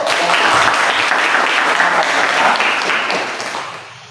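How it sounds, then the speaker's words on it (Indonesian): A class breaks into dense, loud applause close by, holding steady for several seconds before tapering off at the end. "Kita kasih tepuk tangan dulu."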